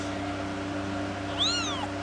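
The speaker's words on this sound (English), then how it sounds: "So we have three little kittens, all very healthy." A three-day-old kitten gives a single thin, high meow, rising then falling, close by and brief, over a steady low background hum.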